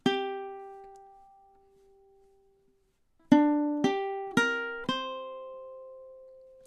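Ukulele plucking measure 8 of a tune: one ringing note left to decay into silence, then four crisp plucked notes at an even pulse, each sustaining briefly, up close and with no voices.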